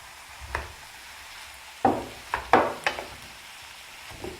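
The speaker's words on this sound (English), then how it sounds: "I think we are frying the rice a little bit" Rice sizzles faintly in a pan while a spoon scrapes and stirs in several sharp strokes, with quiet gaps between them and no talking.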